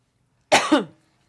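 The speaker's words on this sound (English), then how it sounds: "I wonder why I'm coughing" A single short, sharp cough, close and clear, in two quick bursts against otherwise near silence.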